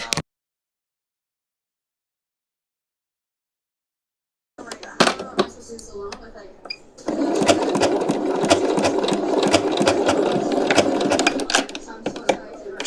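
A sewing machine stitching a bikini made of pistachio shells. After a long silence it starts in short stop-start bursts, then runs in a steady, fast, close mechanical rattle.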